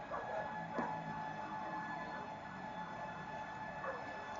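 A distant fire truck siren wails faintly over a steady hum of traffic and city background noise in Mandaluyong City at 6am.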